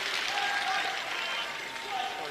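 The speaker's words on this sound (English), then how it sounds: "Big cheer from all the Canadian fans in the crowd." Canadian fans in the crowd cheer and applaud at the 2018 World Men's Curling Championship, an Italy v Canada round-robin game. The roar is steady and fairly loud for about two seconds, with a faint voice mixed in.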